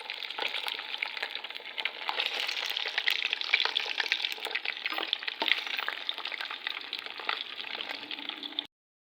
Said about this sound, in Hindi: गाइस तो सिरे हो गए हैं फ्राई